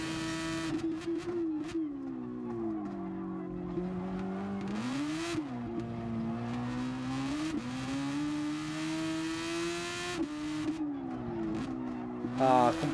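Super Formula open-wheel race car in GT Sport at night, its engine wailing loud and close throughout, rising and falling in pitch through gear changes with sharp revving climbs and brief lifts off the throttle.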